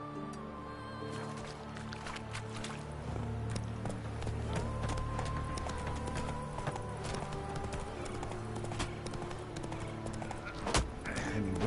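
Horse hooves clip-clop rapidly and steadily in The Witcher video game, close and continuous over game music, with no talk.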